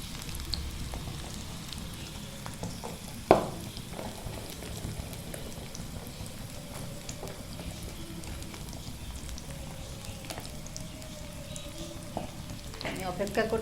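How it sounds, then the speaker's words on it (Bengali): Garlic and onion frying in a pan for naile pata bhaji, a steady crackling sizzle with occasional stirring scrapes and one sharp clack of the utensil against the pan, no talking. "অল্প আছে রসুনটা ভাজা ভাজা হবে।"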